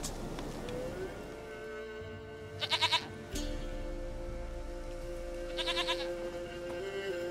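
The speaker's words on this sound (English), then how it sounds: "Goat of mine, dearest, sweetest goat." A goat in The Witcher 3 gives two short, wavering bleats a few seconds apart, fairly quiet over a steady low background hum.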